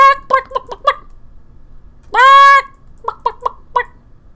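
A Minecraft Pixelmon chicken clucks in short, clipped bursts, then gives one longer, honking squawk, followed by another quick run of clucks, loud and close with no other sound.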